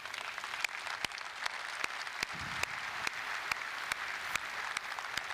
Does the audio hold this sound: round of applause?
yes